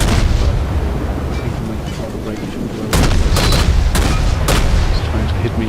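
Rapid naval gunfire from a tier IV Russian destroyer, the Izyaslav, in World of Warships: loud, booming salvos repeat in quick succession over a dense rumbling battle backdrop, close and forceful.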